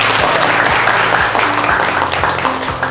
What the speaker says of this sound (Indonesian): kita awali dengan tepuk tangan